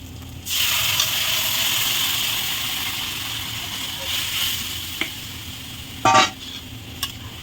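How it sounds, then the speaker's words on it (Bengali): Moong dal is poured into a hot pan of fried cumin, chui and flour, for a moong dal with katla fish head. A loud, close sizzling hiss bursts up and then settles into a steady frying crackle. "এবারে আমি ডালটা ঢেলে দেবো দেখুন এই যে ডালটা ঢেলে দেবো"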